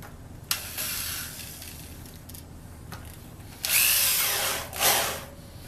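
A power drill whirs in short bursts, a brief spin near the start and a louder, longer run toward the end, with quieter pauses between.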